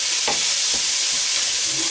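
Garlic sizzles and fries in a hot pan while cooking baked beans with ham, a continuous loud hissing crackle close up with a couple of soft stirring knocks and no talking.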